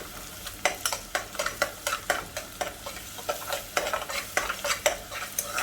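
A spoon stirring onion and garlic frying in a pan, regular scraping strokes about twice a second over a soft constant sizzle, close and alone with no talk.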